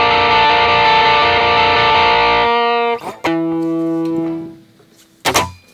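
An electric guitar chord rings out through a distortion pedal rolled to its overdrive setting with only a little drive, a thick sustained tone that cuts off, followed by sparser muted notes and a final sharp strum.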